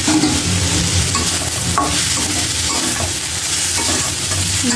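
Fish frying in hot oil with vegetables, stirred steadily in the pan, giving a loud, continuous sizzle with scraping stirs throughout and no voices.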